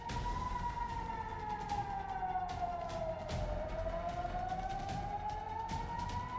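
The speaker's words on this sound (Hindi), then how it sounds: "सायरन की आवाज" An emergency siren wails continuously in Tehran during a large market fire, its pitch sweeping slowly down and back up, moderately distant over steady crackling street noise.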